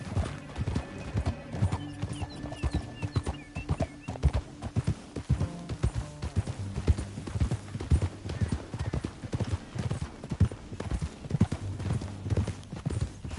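Horse hooves gallop steadily in the Red Dead Redemption 2 video game, a fast continuous clip-clop rhythm alongside occasional neighs and a low musical score underneath.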